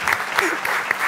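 Audience clapping on a Malayalam comedy show stage, a brief burst of fairly loud, dense applause lasting about a second, with voices mixed into it.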